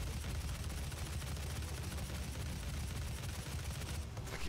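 Enemy gunfire in the horror-themed Doom SnapMap level, a dense, continuous rattle of shots that stays loud and steady throughout with no pauses or talking.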